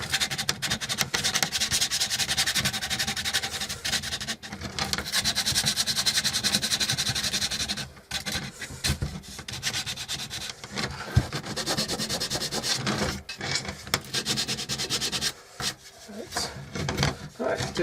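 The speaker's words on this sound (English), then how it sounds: "I go over a little bit of finer grade sandpaper" Finer grade sandpaper is rubbed over a wooden bird table in steady back-and-forth strokes, a close continuous scratchy rasp broken by short pauses, with someone speaking now and then.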